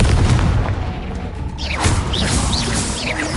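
Confringo fire spell explosions from Hogwarts Legacy, a run of loud booming blasts and crackling impacts with shrill whooshing streaks, close and continuous.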